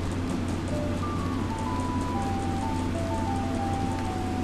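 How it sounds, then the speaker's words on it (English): Steady rain in the video game The Legend of Zelda: Majora's Mask, a constant hiss and patter under a soft, sustained game music melody with a low hum, no speech. "It's raining."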